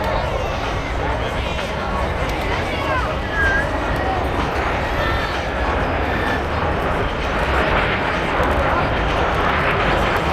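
A pair of BAC Strikemaster jet aircraft pass at an airshow, a loud, continuous roaring jet noise under crowd and commentary voices throughout.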